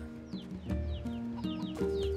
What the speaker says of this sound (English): Can we lock onto the chicken?